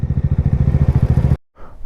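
Motorcycles rumbling at Nubra Valley in Ladakh, a close, loud, steady pulsing engine idle that cuts off abruptly before a quieter engine sound resumes.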